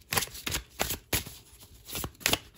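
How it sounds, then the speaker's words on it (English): A tarot card deck is shuffled by hand in short, crisp bursts of riffling and flicking, close up and fairly loud, with brief pauses between strokes. "Bit of a shuffle."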